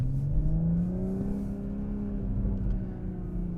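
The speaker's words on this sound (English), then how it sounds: "some pops from the exhaust when you let off throttle are nice" Exhaust of a 2021 Toyota GR Supra revving and easing off throttle, a steady loud engine drone with shifting harmonics and faint crackles, no talking.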